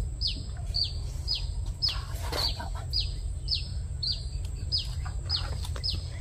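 Chickens at a cemetery home in Vietnam give repeated short, high chirps and clucks at an even rhythm over a steady low rumble of background noise.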